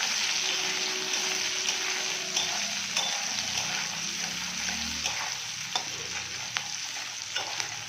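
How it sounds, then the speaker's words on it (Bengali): Meat cooks with spices in a pan, frying with a continuous bright sizzle while it is stirred, scraping and clinking faintly, close and steady with no voices. "ওদিক দিয়ে আবার মাংস রান্না করছি মাংসটা ভালো করে কষিয়ে নেড়েছে"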